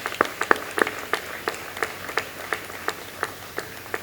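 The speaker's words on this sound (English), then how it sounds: "Please join me in applause." Applause at the Sivananda Eminent Citizen Award 2024 ceremony: fairly faint, sparse claps from a few hands, falling in an even, rhythmic pattern for a few seconds.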